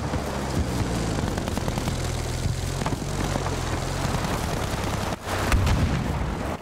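A propeller warplane roars overhead in Battlefield V amid scattered gunfire and explosions, with the engine drone swelling louder near the end.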